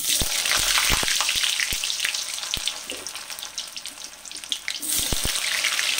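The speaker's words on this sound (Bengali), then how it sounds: "এই তেলের মধ্যে পটলগুলোকে দিয়ে দিচ্ছি।" Pointed gourds (potol) fry in hot oil with a dense, steady broadband sizzle, punctuated by sharp crackles and pops spread throughout; the frying stays fairly loud and close, with no voices.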